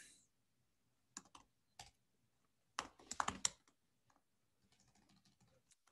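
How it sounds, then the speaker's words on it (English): Typing on a computer keyboard comes in sparse close bursts of clicky keystrokes, with a dense flurry in the middle and quieter taps near the end, no speech. "Never good typing in recording, so bear with me."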